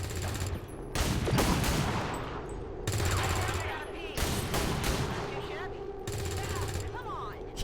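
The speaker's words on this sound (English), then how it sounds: "Shooting a dead body." Gunfire in the video game XCOM 2: Long War of the Chosen, several loud bursts of rapid shots separated by short pauses, sitting over a steady game ambience with a voice speaking at times.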